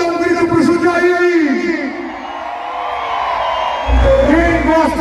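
A rodeo crowd with bulls in Cajamar, Brazil shouts and cheers, a broad roar swelling toward the end beneath an announcer's amplified voice and music.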